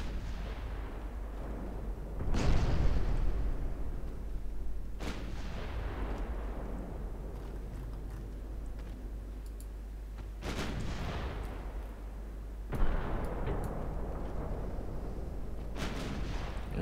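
Warship secondary guns fire in Ultimate Admiral Dreadnoughts, with a few heavy booming shots spaced several seconds apart, each rolling off into a long rumble over a constant low engine drone.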